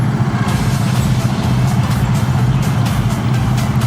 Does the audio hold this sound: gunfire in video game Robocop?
no